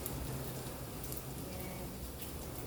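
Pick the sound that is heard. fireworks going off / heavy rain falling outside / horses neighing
heavy rain falling outside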